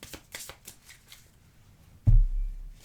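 Tarot cards are gathered into a stack, with a quick series of light flicking riffles, a short pause, and then a heavier thud and scrape as the deck is set down, close and without speech.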